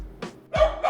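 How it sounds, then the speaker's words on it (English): A small dog in an office gives three short, sharp barks in quick succession, close by and moderately loud, with nobody talking. "she barks at everything at our office"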